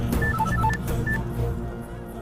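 Telephone keypad tones: a quick run of short, bright dialing beeps in close succession near the start, over a steady low rumble from a film scene's background.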